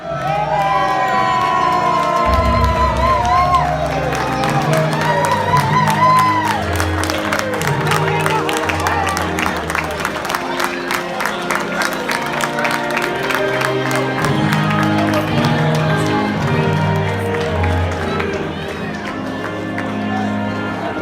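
A wrestling event crowd cheers and shouts loudly and steadily, with bursts of applause and excited voices filling the arena before a ring entrance.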